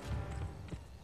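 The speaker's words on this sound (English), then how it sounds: "Ooh, there's another horse." Horse hooves clip-clop faintly in the Wild West video game Gun, a brief, quiet run of hoofbeats against a low ambient background.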